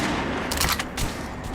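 A burst of gunfire at an armored target on a firing range in the video game Metro: Last Light Redux, with loud, dense, overlapping shots rolling into a reverberant boom over about a second and a half.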